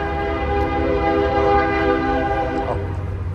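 A train rolls past in Leeds, Alabama, its loud horn blaring steadily and close over the deep rumble of the railcars, filling the whole stretch without talk.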